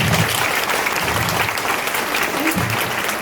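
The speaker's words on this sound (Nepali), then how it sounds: "जसले बुझ्नुभयो एकचोटि ताली बजाइदिनुहोस्" Audience at an indoor motivational training event breaking into applause, dense continuous clapping from many hands, loud and sustained throughout with no break.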